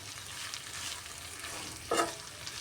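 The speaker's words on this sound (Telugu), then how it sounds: "మాడిపోకుండా ఒక రెండు నిమిషాలు మనము ఫ్రై చేస్తూ కల్లా కలుపుతూ ఉండాలి" Curry leaves fry in a pan while being stirred for a couple of minutes, producing a continuous soft sizzle with one sharper scrape of the spoon against the pan near the end.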